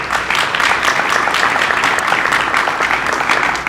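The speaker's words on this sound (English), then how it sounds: "Can you give them a round of applause" An audience at a design concept unveiling celebration claps in dense, sustained applause that holds steadily at a loud level for the whole stretch, with no voices standing out above it.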